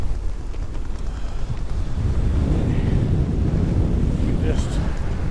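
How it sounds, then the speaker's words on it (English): Strong wind on an autumn mountain summit buffets the microphone in a loud, steady roar with no break, heavy and close throughout. "Wow, that's windy."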